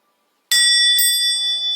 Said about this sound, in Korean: 종소리가 한번 울리면